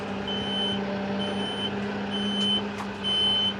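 Reversing alarm on a utility tractor beeping in a steady repeated pattern over a low, even engine idle, fairly close and moderate in level, with no talk.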